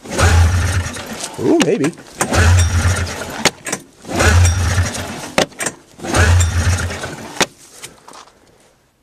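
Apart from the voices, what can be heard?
engine cranking, failing to start, probably out of fuel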